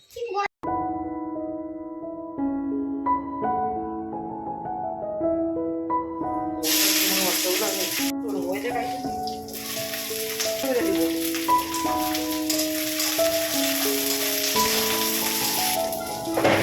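Chicken fries in a pan with a bright, steady sizzle that starts partway through and continues under background music, with a voice speaking now and then.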